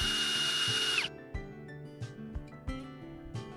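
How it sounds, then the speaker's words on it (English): Power drill turning a 1/2 inch spade bit into a wooden fence post to bore pilot holes, loud and close for about a second before cutting off, followed by a few dull knocks. "I used this 1/2 inch spade bit to start some pilot holes for the lag hinges."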